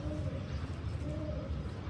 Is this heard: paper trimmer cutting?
no